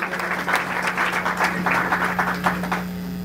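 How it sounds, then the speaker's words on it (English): Audience applause at a board meeting of the Federation of Indian Associations in Chicago: a steady, moderately loud patter of many hands for about three seconds, with a constant electrical hum running underneath. "So let's give a big round of applause to Sunil Shahji."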